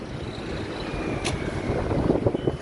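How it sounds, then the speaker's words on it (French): Steady low rumbling wind buffeting a microphone outdoors in Istanbul, Turkey, continuous and close, growing a bit rougher toward the end, with no voices. "Ah, il y a du vent là."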